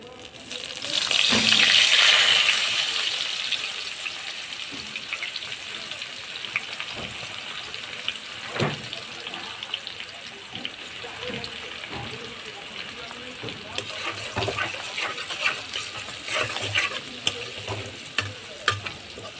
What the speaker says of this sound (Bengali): তেলেই ফোড়ন দেব পেঁয়াজ,